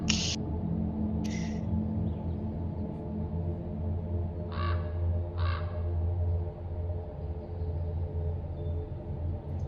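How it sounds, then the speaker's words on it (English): A crow caws in a few short, distinct calls spaced apart, heard over a steady low droning background. "all I could hear was the crow's caw"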